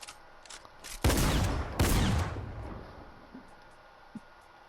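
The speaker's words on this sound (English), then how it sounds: "So this is pretty decent for a shotgun, the fire rate." Shotgun blasts from a Fortnite Chapter 2 match, two loud booming shots about a second apart with ringing decay, followed by faint small clicks and thuds.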